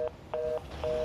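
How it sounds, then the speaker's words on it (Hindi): Three short telephone dialing tones in quick succession while a phone call is placed, clear and close with quiet gaps between, no talk. "खुशी का फोन क्यों नहीं मिल रहा?"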